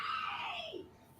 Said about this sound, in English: I can hear my kid in the background screaming